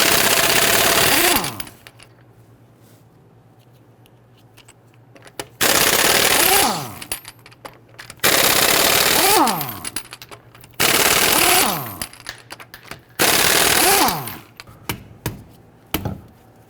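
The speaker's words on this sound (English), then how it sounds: "Using a 22mm socket, loosen and remove the lug nuts." Impact wrench on a 22mm socket removing rear lug nuts on a 2011-2023 Dodge Charger, five loud rattling bursts of hammering, each winding down with a falling whine, separated by pauses.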